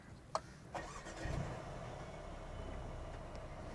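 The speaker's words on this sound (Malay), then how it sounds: "Pika akan mulakan dengan kita start dulu enjin kereta ni" A 2020 Mercedes A35 AMG 4Matic engine starts with a brief starter whir that catches into a firm flare, then settles into a steady, fairly quiet idle.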